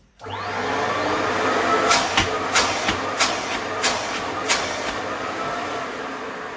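An A Series dust collector runs with a steady, loud whooshing roar as its hose inlet is shut for filter cleaning, punctuated by about six sharp pulses of air.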